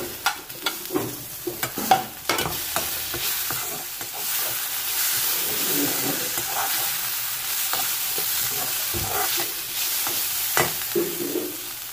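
Chicken frying and being stirred in a pan, loud close sizzling with repeated scraping and clattering stirring strokes, busier in the first few seconds and then a steady hiss with occasional knocks.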